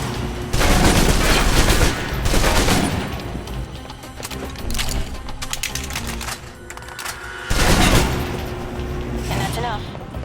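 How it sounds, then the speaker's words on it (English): Submachine gun fire from the video game Alpha Protocol: rapid, loud bursts with dense repeated reports and sharp onsets, broken by brief pauses, with game effects underneath. "If you're trapped in close quarters with multiple opponents, the SMGs can help clear the room quickly"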